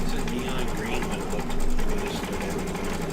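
An embroidery machine stitching out a mug rug, a continuous fast mechanical whirr at steady rhythm, close and fairly loud, with a voice faintly under it.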